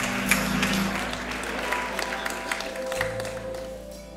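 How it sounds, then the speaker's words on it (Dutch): An audience at a Dutch late-night talk event on digital security applauds to welcome a rapper on stage: steady, dense clapping filling the room throughout, with a faint tonal hum underneath and no talking. "Dames en heren, mag ik een hartelijk applaus"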